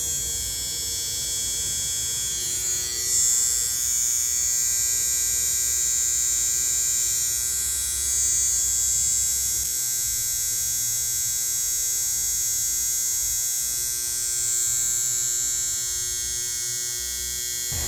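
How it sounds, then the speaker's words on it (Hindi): Budget men's electric hair and beard trimmer running continuously, a steady close-up buzzing hum with a bright high whine, alone without talk, shifting slightly in tone midway. "ट्रिमर ज़्यादा नॉइज भी नहीं करता है"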